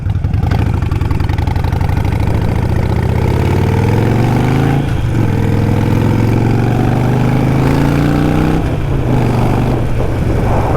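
A Harley-Davidson Nightster 1200 motorcycle engine runs loud and close, idling with a rumbling pulse before revving up and settling back down several times, with no talk over it.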